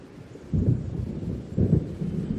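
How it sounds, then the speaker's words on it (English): Thunder rumbles from an approaching storm by the sea in the video game Alan Wake. Two deep, rolling booms swell within a couple of seconds over a steady low background roar, with no voices. "It seems there's a storm coming."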